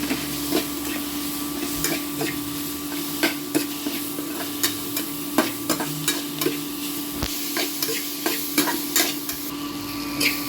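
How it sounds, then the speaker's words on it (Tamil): Onions and tomatoes sauté in a pan with a steady sizzle, broken by regular scraping stirs from a spatula throughout. It sounds close and fairly loud, with no talking. "நல்லா வதங்கி வச்சுக்கலாம்."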